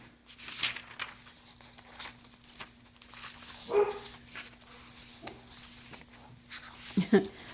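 Several short dog barks, fairly faint and spread out, mixed with a person talking and some paper crinkling.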